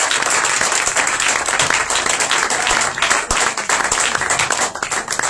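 A church congregation gathered for a commemoration applauds continuously with dense, sustained clapping throughout, full and steady with no pause.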